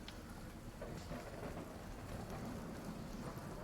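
Rain and rolling thunder in the Witcher 3 video game, a steady hiss of rainfall with low rumbling underneath, fairly faint and continuous without speech.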